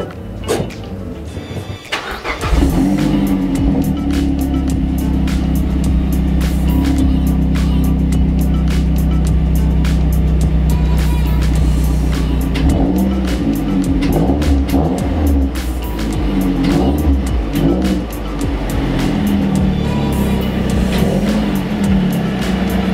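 A car engine idles and revs steadily at close range as the car is moved a little, with a continuous low rumble and small shifts in pitch, no speech.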